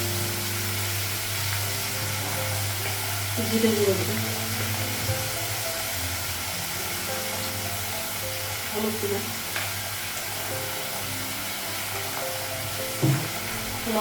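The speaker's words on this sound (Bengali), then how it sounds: "জিরে পেঁয়াজটা বাবা ভেজে দেবো" Cumin and onion fry in a pan, a steady soft sizzle with occasional stirring clinks, while a person talks nearby in a home kitchen.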